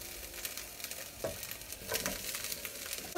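Broccoli sizzles in a hot pan with a soft, steady crackle and occasional pops, heard close but faint, with no talking.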